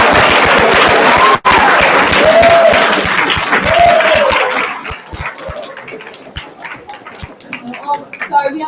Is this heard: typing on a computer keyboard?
no